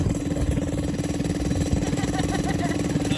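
A V6 Honda Accord engine runs roughly while being driven hard on a Gambler 500 off-road rally. It makes a loud, close, steady throb with a rapid clattering pulse and no pauses.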